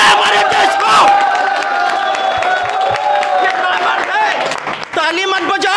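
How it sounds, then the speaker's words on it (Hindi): A large audience at a political speech about Kashmir claps and cheers loudly, with whoops and crowd noise rising and falling throughout while a speaker's voice carries over the din. "ताली मत बजाओ"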